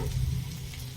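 Small fish with spices fry gently inside a banana leaf, giving off a soft, continuous sizzle with a faint bubbling texture, quiet and close.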